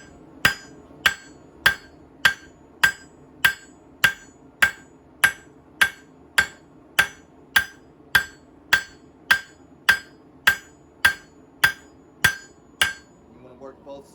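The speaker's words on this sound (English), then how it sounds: "we're going to start with the round side of the hammer. Close side of the anvil towards you" A hammer strikes hot steel on an anvil while a knife is being forged, about two dozen sharp ringing blows in a steady, even rhythm. The blows are loud and close, and no voice is heard.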